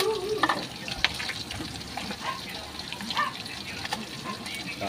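Shrimp dropped into boiling hot oil, sizzling loudly and splattering up close, with bursts of crackle and popping throughout and faint movement in the background.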